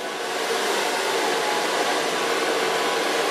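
A hair dryer blows steadily while hair is dried with a round brush, giving a loud, continuous broadband whoosh that holds an even pitch throughout.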